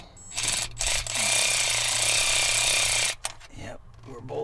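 A ratchet bolting a fuel system part on a 1984 Dodge Ram W250: a loud, dense burst of rapid mechanical clicking lasting about three seconds, close up, with a few short clanks before and after.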